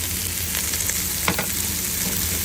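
Pancit noodles seasoned with salt, black pepper and vinegar being stirred in a hot pan, a steady close sizzle with a few soft scraping strokes in the middle.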